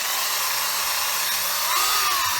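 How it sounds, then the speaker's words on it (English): A handheld power buffer with a buffing pad polishes a surface, giving a loud continuous high whine that holds steady and rises slightly in pitch toward the end, with no talking. "Now we're just going to hit this with the buffing pad."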